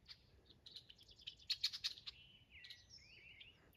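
Red-winged blackbirds calling by a cattle pond, high chirps and trills rising over a quiet background, a few close together, then a rolling trill fading out.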